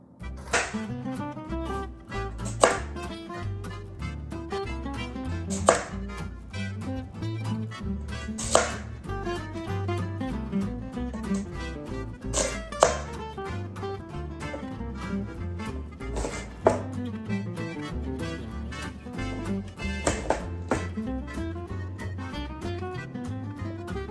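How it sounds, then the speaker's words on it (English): A knife slicing peeled sweet potatoes into small cubes on a cutting board, steady repeated chopping thuds with occasional louder knocks, close and clear under light background music. "take your knife and start cutting up your potatoes"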